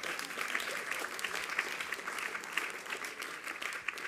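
A live audience at a spoken-word poetry evening applauds steadily for several seconds, a dense, even wash of clapping from many hands heard close and loud.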